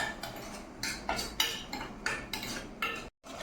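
A spoon stirs ice cream mixture in a bowl with a strawberry base, giving a run of light metallic clinks and scrapes in a loose repeating rhythm, close and fairly quiet.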